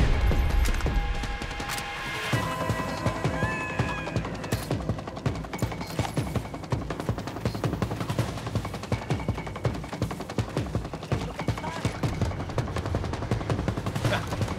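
Rapid gunfire rattles almost nonstop through a Saints Row gameplay fight on PS5, dense automatic bursts and sharp single shots layered over game music and crashing effects.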